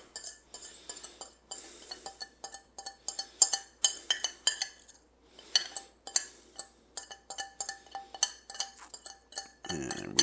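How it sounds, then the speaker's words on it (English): Clinking of utensils against a bowl as Cajun spice, pickle juice and hot sauce go into mayonnaise, a steady run of light taps and scrapes close by with no talking. "So we're just going to put all those things into a bowl with the mayonnaise."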